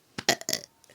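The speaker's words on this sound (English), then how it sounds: "I'm sorry about the burp" A single short burp, close and fairly loud, breaking into a few quick voiced pulses within about half a second before fading to quiet.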